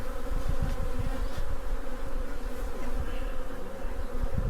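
A dense, steady buzz of many bees swarming around a full hive fills the whole stretch, continuous and fairly close, with no voices.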